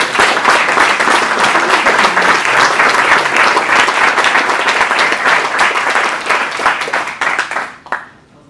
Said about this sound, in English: Let's give a round of applause real quick.